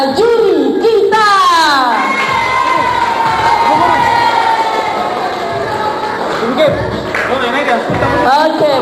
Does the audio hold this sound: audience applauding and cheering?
yes